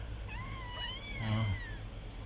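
A small kitten meows repeatedly, wanting its mother's milk, in a cluster of thin, high cries close by, over a low background hum.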